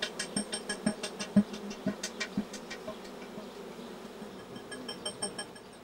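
Honeybees busy at the hive entrance returning with pollen loads: a steady low insect hum fills the background, broken by a run of soft rhythmic ticks and taps, fairly quiet and close, with no voices.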